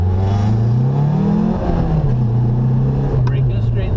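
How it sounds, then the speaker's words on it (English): A car launches from a standstill, its engine revving loud and close as the pitch climbs steadily, drops at a gear change, then climbs again, with a voice talking over it. "So I'm going to launch the car."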